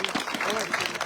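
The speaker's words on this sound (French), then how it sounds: "je vous demande un tonnerre d'applaudissements pour Guy Lemonnier de Gouville" Applause at an awards ceremony for Guy Lemonnier de Gouville, a brief burst of dense clapping from the crowd with a voice speaking over it.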